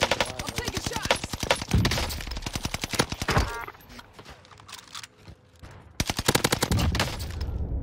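STG44 assault rifle fire in a video game: rapid bursts of loud, close automatic shots in quick rhythmic strings, a brief lull with scattered distant reports, then another sustained burst near the end.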